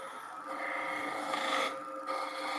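A wood-turning gouge rolls along the edge of a spinning workpiece on a lathe, producing a steady scraping hiss over the motor's hum that swells briefly midway, with no talking.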